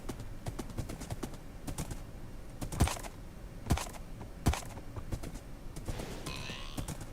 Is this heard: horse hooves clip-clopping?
yes